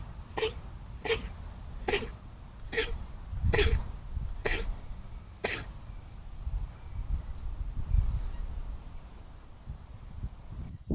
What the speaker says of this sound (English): immediately had what appeared to be a sneezing fit